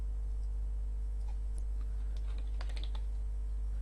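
Light clicks of a computer keyboard as a short label is typed, a few faint taps clustered near the end over a steady low electrical hum.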